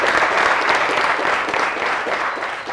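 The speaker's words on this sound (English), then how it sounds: "So just a round of applause" Steady, dense applause from an audience at a school education project event in Zambia, loud and close throughout with no talk over it.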